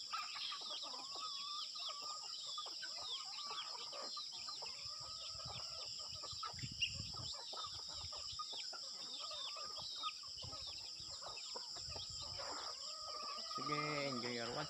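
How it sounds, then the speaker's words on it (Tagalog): Chickens cluck and squawk close by during a morning feeding on a farm, busy overlapping calls and scratching, with a few brief human sounds and a rustle near the end. "Pakain ng manok."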